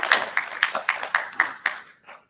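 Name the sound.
audience applause for presenting students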